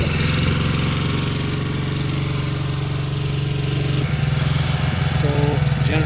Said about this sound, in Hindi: तो जनरेटर की टैंक फिर से फिल कर दी है